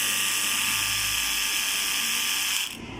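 A faulty hair trimmer with a loose blade buzzes steadily and loudly at close range, a harsh continuous whine that drops off abruptly near the end.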